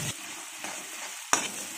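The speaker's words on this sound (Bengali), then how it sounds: "এরকম করে নেড়েচেড়ে নেব ভালো করে।" Tomato masala for a fish-head mung dal being stirred as it fries in a pan, with a steady close sizzle broken by a few scraping stirs, the last one sharper and louder.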